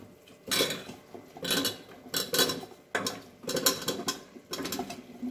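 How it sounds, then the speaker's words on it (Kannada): Mushrooms being added and stirred into a pan of tomato and oil for mushroom biryani, with repeated metallic clatters and scrapes of a utensil against the pan in steady bursts. "ಇವಾಗ ನಾನು ಮಶ್ರೂಮ್ನ ಆ್ಯಡ್ ಮಾಡ್ತಾ ಇದ್ದೀನಿ."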